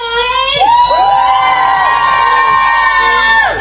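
A crowd at an outdoor Christmas countdown event in Newport cheers loudly and continuously, with high-pitched whoops and children's shouts rising over the roar. The sound is close and sustained before fading slightly at the end.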